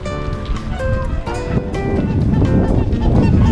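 Honking duck calls in Reykjavik, Iceland, repeat over a steady wash of wind and water noise, fairly close, with some faint background voices.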